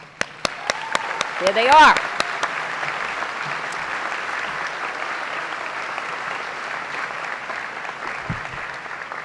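At a high school graduation ceremony in an auditorium, the crowd applauds the graduates' grandparents, a sustained broad wash of clapping that swells and holds, following a few sharp isolated claps and a short spoken line at the start.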